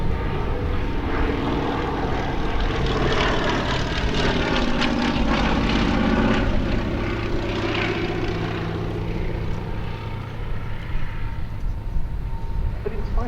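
Fairey Swordfish biplane with a single propeller engine flying past at the Duxford Battle of Britain airshow, a loud droning engine note that swells and shifts in pitch as it passes, with faint commentary underneath.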